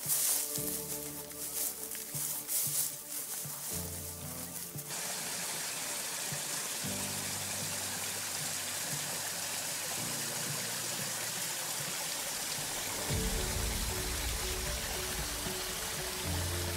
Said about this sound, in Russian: Когда мы спустились вниз, то мы увидели несколько родников, которые бьют прямо из стены.